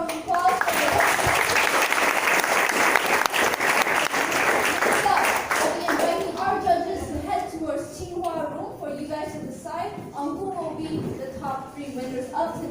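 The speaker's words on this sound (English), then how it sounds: "Please give everyone a big round of applause for their" Audience applause at a hackathon event, a dense sustained wash of clapping for about six seconds that then thins out as a person speaks over the scattered remaining claps.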